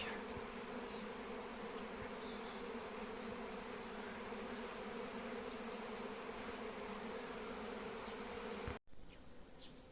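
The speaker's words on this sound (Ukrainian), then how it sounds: "Тільки приїхав на пасіку, а тут виходить рій." A honeybee swarm emerging at an apiary fills the air with a dense, continuous buzzing hum, loud and steady, before a sudden cutoff near the end.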